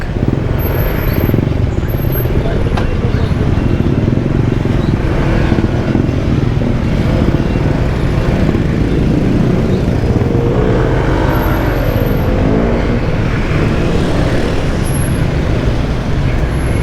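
Heavy road traffic in Capas, Tarlac, Philippines: a loud, continuous roar of cars, buses, trucks and motorcycles close by, with faint air-brake hisses now and then.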